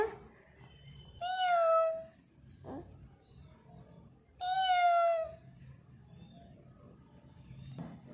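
A cat meows twice nearby, two long, loud, drawn-out cries a few seconds apart, with quiet background noise between them.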